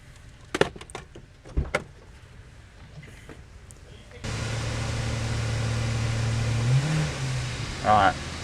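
A Mitsubishi Pajero Mini on a drag test strip, its small engine droning steadily then rising in pitch as it revs and accelerates on kickdown, close and loud, with a few door thumps and brief voices beforehand.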